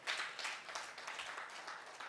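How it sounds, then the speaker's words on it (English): A gathering of members at an International Zero Tolerance for FGM event in Moroto District gives a round of applause, a soft, continuous patter of many hands heard from a distance with no voices. "Members, another round of applause to the COW"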